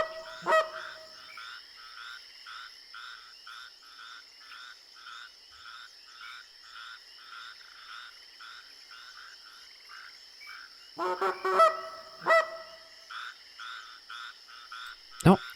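A flock of birds passing overhead in theHunter: Classic gives a steady run of rhythmic honking calls at moderate distance, followed near the end by a few louder, closer calls.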